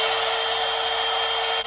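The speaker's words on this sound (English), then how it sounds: "I was not expecting this to sound like a blow dryer" A FOXYBAE Blowout Dryer Brush Pro hot air brush blows with a steady, loud whooshing hum, like a blow dryer, that stays constant and cuts off abruptly at the end.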